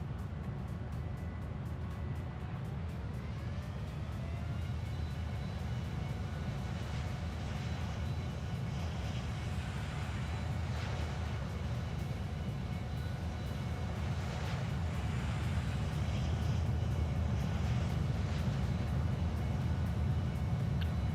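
Airliner engines spooling up for takeoff at Haneda airport in the game Airport Hero Haneda, a continuous loud low roar and whine that holds steady and swells slightly toward the end.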